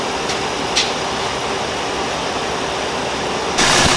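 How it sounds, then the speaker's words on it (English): A Ford F150 engine hums steadily with the AC compressor clutch engaged and spinning, a continuous broadband whir with a faint tonal line, plus a brief louder surge at the end. "you can see the compressor clutch is engaged and spinning"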